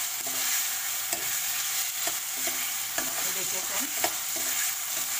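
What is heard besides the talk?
chicken manchurian stir-fried in a pan on high flame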